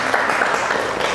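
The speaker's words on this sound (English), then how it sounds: "Can we pause for a round of applause for that outcome?" An audience applauds at a startup talk event, with dense, even clapping throughout the short stretch.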